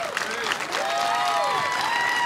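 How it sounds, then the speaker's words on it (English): Applause from the crowd at the 2011 World's Strongest Man contest, a dense, steady roar of clapping and cheers that fills the whole stretch while an announcer's voice carries over it. "Big round of applause once again"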